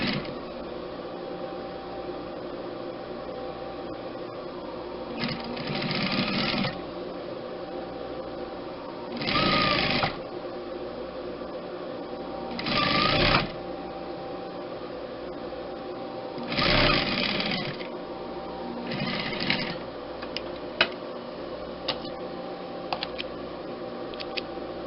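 A sewing machine stitches a hem on a pillowcase in several short bursts of rapid whirring, close and distinct, separated by quieter pauses of low background hum.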